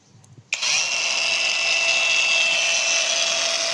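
Worcraft CAG-S20LiBS-125 cordless angle grinder with a 4 Ah battery starts up at its lowest speed setting, settling into a steady, close, continuous high whine that runs alone after a brief quiet moment.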